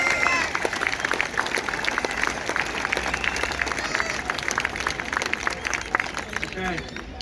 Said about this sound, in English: And clap, clap.